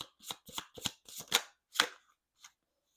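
Astrology cards being shuffled, a series of crisp riffling bursts and short flicks in an uneven rhythm, close and fairly quiet, with a final soft snap after a pause.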